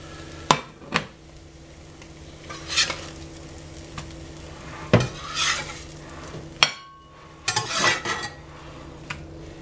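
Eggs frying in a cast iron skillet, with a low steady sizzle under repeated scrapes and clinks of a utensil against the pan, close and moderately loud, no talking.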